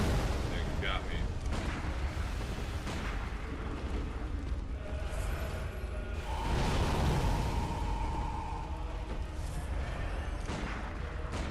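Gunfire and heavy blasts in the dark gothic action game Bloodborne, with booming impacts and whooshes over a dense, continuous game soundscape while someone talks throughout.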